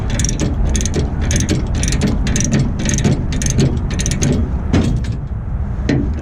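Ratchet chain binder being cranked to tighten tie-down chains holding a truck or SUV on a trailer: loud, close bursts of rapid metallic ratcheting clicks in a steady rhythm, with a final few separate clacks and no speech.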